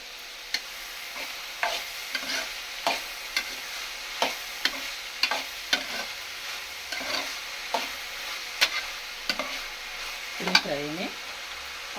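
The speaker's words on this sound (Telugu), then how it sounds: "పొయ్యి మీద పెట్టేసుకొని అది వేగుతూ ఉంటుంది" Tempering spices for tomato dal fry in a pan with a steady sizzle, punctuated by sharp regular clinks and scrapes of a ladle, with a brief murmur of voice near the end.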